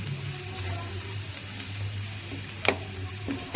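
Spices for a spicy crab and tilapia curry fry in oil in a pan, a steady close sizzle with a couple of sharp clinks of a spoon against the pan near the end.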